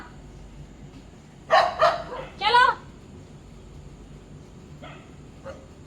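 Dogs barking near a house in India, a few sharp bursts in quick succession, then a couple of fainter barks further off, with a brief spoken word in between.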